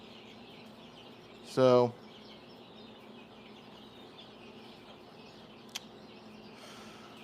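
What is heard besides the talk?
baby chicks and chickens clucking in a chicken house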